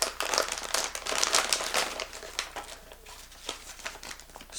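A plastic bag crinkles and rustles in a burst of close, busy crackling as a Tekin Treal RC truck wheel for a Losi LMT is pulled out, with no talking over it.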